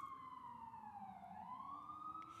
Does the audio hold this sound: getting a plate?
no